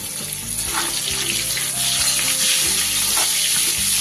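Large diced potatoes fry in hot oil with salt and turmeric in a Bengali home kitchen, giving a loud, steady hiss and crackle that runs unbroken throughout, with no talking.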